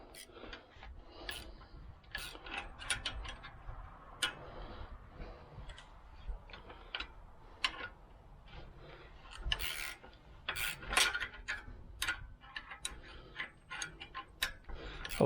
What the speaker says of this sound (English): I love my little gear wrenches